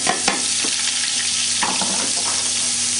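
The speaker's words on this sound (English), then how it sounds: "We have our diced onion, we have our pureed garlic, they're going into the pan. We want to sweat them off for a minute or two." Diced onion and pureed garlic sweat in a hot pan for a tomato pasta sauce, giving a steady, even sizzle with a few faint stirring scrapes and no talking.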